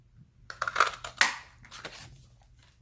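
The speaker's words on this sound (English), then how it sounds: "we're going to punch that out with a punch" A paper punch presses a 1 by 1 1/4 inch shape out of cardstock. It gives a few short crunching clicks and rustles packed into about a second and a half, close and fairly quiet.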